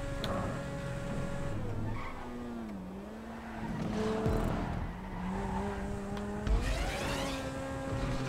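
Cars revving and skidding with squealing tyres in a GTA street race video game, engine tones rising and falling over about eight seconds, with a brief louder impact-like burst near the end.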